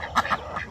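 A brief pair of nasal quacks from farmyard ducks, close and fairly loud over a noisy outdoor background.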